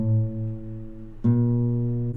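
A guitar's fifth string, tuned too high, is plucked twice, each note ringing clear and sustained with a bright attack and slow decay, alone and close.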